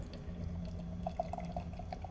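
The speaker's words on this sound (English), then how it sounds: "We're going to pour this out here," Montucky Cold Snack lager beer pouring from a can into a glass, a soft, faint liquid trickle with light dripping splashes, steady throughout, with no talking.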